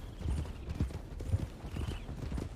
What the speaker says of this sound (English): I should not be steering this horse